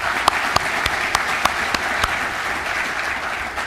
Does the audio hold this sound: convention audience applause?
yes